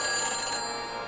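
A telephone ringing after a number is dialed in the Back to the Future video game, a steady electronic ring tone heard alone and close.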